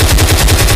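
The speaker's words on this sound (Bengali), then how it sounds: "এই বলদে পপাইকে গুলি করে পপাইয়ের গার্লফ্রেন্ড নিয়ে দিছে দৌড়।" A gunshot in a Popeye cartoon, a loud rapid burst of gunfire.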